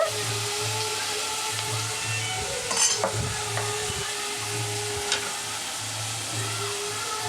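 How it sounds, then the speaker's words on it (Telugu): Ingredients fry with turmeric in a pan, giving a soft, steady sizzle with a couple of brief stirring scrapes and clinks midway, close but quiet, with no talk. "బాగా పచ్చివాసన పోయేదాకా దీన్ని కూడా వేయించుకోవాలి"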